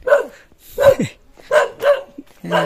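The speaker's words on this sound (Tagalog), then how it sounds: "aso pala dyan" A dog barks several times in quick succession, close and loud, with short sharp yaps and a brief whine between them.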